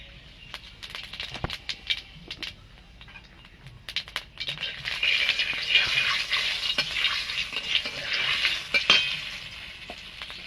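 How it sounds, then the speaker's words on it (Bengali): Cumin seeds sizzling in hot oil in a wok while cooking hilsa fish curry, a steady crackling fry that grows louder and denser midway, with scattered sharp pops and scraping stirs and no talking. "আমি কড়াইতে তেল দিয়ে দিয়েছি। আমি কটা জিরে ফোড়ন দিয়ে দেব।"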